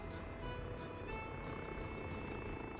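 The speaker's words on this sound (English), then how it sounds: "Sounds like we also have a helicopter stepping in here." Helicopter in the city-building game Workers and Resources: Soviet Republic, arriving over a fire: a steady, droning rotor hum with a faint rhythmic chop, moderately distant and continuous, with no talk.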